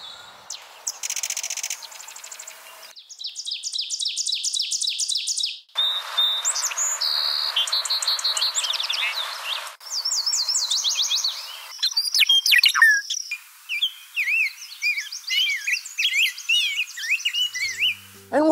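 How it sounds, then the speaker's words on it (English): A sequence of varied bird songs and calls, with bright chirps, trills and whistled phrases changing every few seconds, loud and close with no talking. "And here are some more bird sounds."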